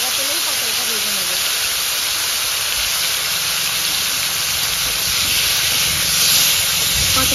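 Pointed gourd (potol) pieces, coated in salt and turmeric, fry in hot white oil in a home kitchen, giving a loud, steady sizzling hiss that barely changes throughout.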